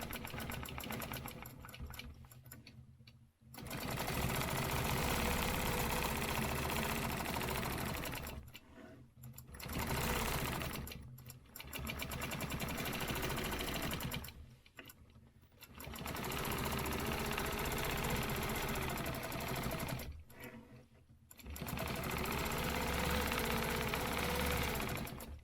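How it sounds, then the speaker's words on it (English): A sewing machine stitches cross-hatch lines across fabric in four long steady runs of rapid mechanical whirring, separated by short pauses, loud and close. "So I'm going to go ahead and stitch these lines first."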